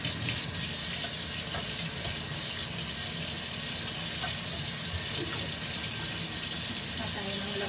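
Water pours steadily from a kitchen sink faucet, a continuous loud splashing rush that runs unbroken the whole time, with faint clatter in the background.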